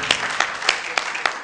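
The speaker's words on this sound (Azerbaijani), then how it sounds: "alqışlar Əliyə!" A small group claps for Ali in a short burst of a few uneven, moderately loud hand claps that fade quickly.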